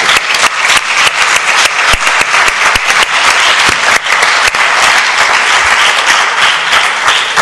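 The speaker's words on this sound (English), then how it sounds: "I would like to have a big applause" A conference audience applauds its interpreters at the close of a discussion on the Turkey-Armenia border: loud, dense, sustained clapping from a large crowd, steady throughout with no voices over it.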